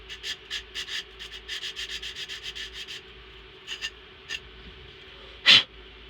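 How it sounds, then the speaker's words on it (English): Rhythmic back-and-forth scraping of sandpaper on a wooden boom, a quick series of strokes that slows and stops, followed by one louder sharp rub. "you're just sanding away"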